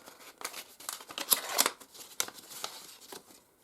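A small black envelope is opened by hand with close, crisp paper rustles, crinkles and short tearing scrapes in an irregular burst, heard alone.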